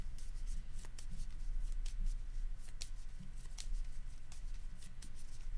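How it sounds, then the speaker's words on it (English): Card shuffling during a Keyforge tabletop tournament match, a quick run of papery riffles and flicks close to the table, steady and crisp with no talk over it. "I'll shuffle."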